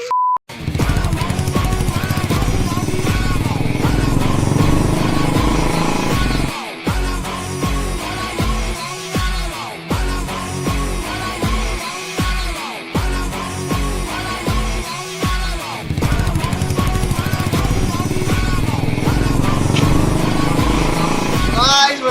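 Royal Enfield Bullet motorcycle riding along a road, its engine a loud, steady thump running throughout with brief dips, while a voice talks over it.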